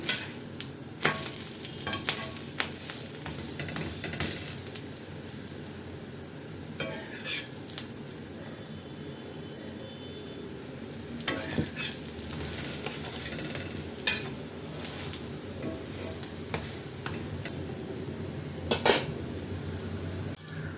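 Tapioca and coconut roti frying in a pan over a medium flame, with a soft steady sizzle under intermittent clinks and scrapes of a utensil against the pan, close by and fairly quiet.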